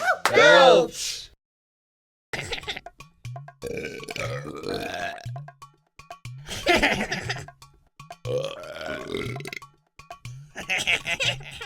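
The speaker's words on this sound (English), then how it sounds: "Belch is another word for burp." A loud, drawn-out belch bursts out at the start, followed by a pause and then lively voices with laughter.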